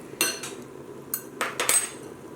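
Metal forks clink against an Instant Pot insert in several sharp, bright taps, close by, with a quiet pause between the bursts.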